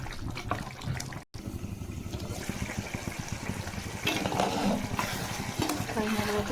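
Raw prawns and gongura leaves being stirred in a pan on the stove, a steady soft scraping and bubbling sizzle with faint wet clicks, fairly quiet and continuous, a brief dropout early on.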